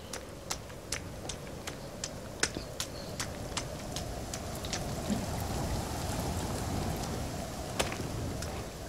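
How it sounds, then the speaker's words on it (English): Rain falls steadily in a video game, a soft continuous hiss with scattered sharp drip-like ticks spaced through it, faint and with no voices over it. "Oh look, it's raining again, just for a change."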